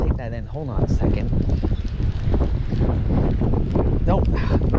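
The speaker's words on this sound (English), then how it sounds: "It's windy out here." Strong wind buffets the microphone in gusts during outdoor fishing while a person talks loudly over it.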